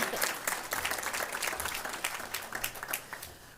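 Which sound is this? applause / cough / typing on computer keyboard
applause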